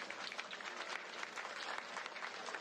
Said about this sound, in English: What happened? What's this applause?